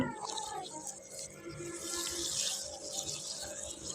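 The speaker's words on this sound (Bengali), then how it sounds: "আলু দিয়ে মাংস কষানো হয়ে এসেছে, এখন আমি দিয়ে দিলাম পরিমাণ মতো পানি" Water pours into a pot of duck meat cooked down with potatoes, a steady splashing rush that swells toward the middle and carries on briefly with no one speaking.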